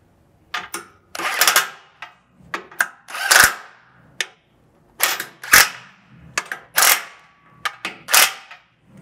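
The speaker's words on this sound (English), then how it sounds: "now we can go ahead and tighten up all our hardware" An impact wrench tightens the M12 bolts on a GX470 rear bumper, with short loud rattling bursts repeated in an uneven rhythm and brief pauses between them, close by with no talk.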